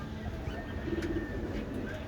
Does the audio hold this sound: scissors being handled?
no